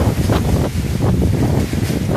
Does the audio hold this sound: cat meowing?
no